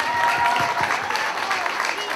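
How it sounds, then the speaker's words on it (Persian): An audience claps steadily through a television show's award moment, a dense and even round of applause that stays loud throughout, with a voice faintly underneath. "تشویق کنین ولید جان"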